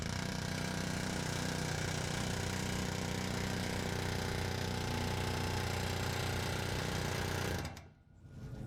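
An air chisel hammers rapidly and continuously at a worn leaf spring bushing on an International bus, a dense loud rattling buzz close by that cuts off abruptly near the end, with no talk.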